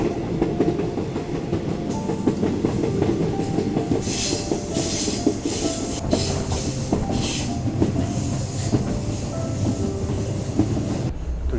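A Malaysian jungle train rolls steadily along the rails, its carriage rumbling with a loud, continuous rhythmic clatter, faint squeals and bursts of hiss riding over the heavy low drone for the whole stretch.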